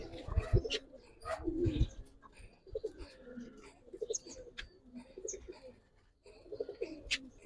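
Native Chuina pigeons at a pigeon farm coo in low, throaty bursts, several overlapping calls close by with short pauses between, plus a few faint chirps in the background.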